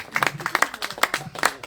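Scattered hand clapping from the audience at a Punjabi poetry mushaira in Germany, a few bursts of claps rising and falling over under two seconds, moderately close with some crowd murmur.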